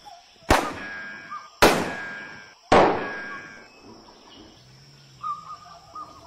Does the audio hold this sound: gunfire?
yes